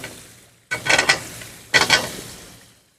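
Potatoes frying with spices in a pan, stirred in two short scraping bursts over a low sizzle that fades away at the end.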